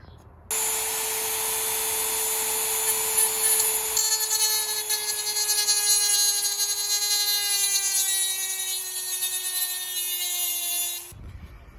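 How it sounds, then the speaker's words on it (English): A steady whining power tool, likely a rotary cutter, trims plastic tabs and molding on a Honda S2000 instrument cluster being converted to NSX style, running continuously close by for about ten seconds before stopping abruptly. "Cut the tabs on the side, on both sides, and then you cut around this."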